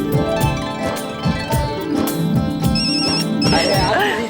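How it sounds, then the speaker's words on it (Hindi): A repeating electronic phone ringtone chimes in bright tonal bursts, with a voice talking over it and background sound throughout. "तारक का फोन है"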